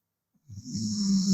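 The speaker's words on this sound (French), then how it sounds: "il est en train de ronfler" Someone snores loudly and close up, one long rasping inhale that builds from near silence into a steady rumbling drone.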